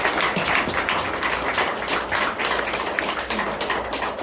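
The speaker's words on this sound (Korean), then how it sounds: "위로의 박수를 한번 유가족들에게 보내드렸으면 좋겠습니다" At a memorial evening for a bereaved family, an audience claps in a dense, steady round of applause that holds at an even level throughout, with no voices over it.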